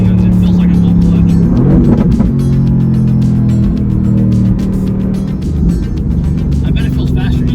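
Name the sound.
Mercedes GT-R car driving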